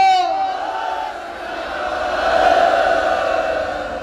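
A crowd at the Tikri Border farmers' protest near Delhi roars back a drawn-out Sikh jaikara response, a loud collective shout that swells and sustains after a voice starts the call.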